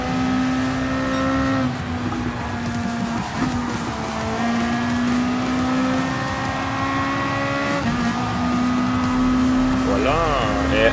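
Race car in a Japanese GT championship race in Gran Turismo Sport, its engine whine climbing through gears with brief drops at each shift, loud and continuous, with a tire squeal near the end.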